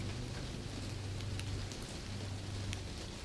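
Steady, even hiss of rain falling on a lake surface, continuous and moderately loud, with a low rumbling undertone and no voices.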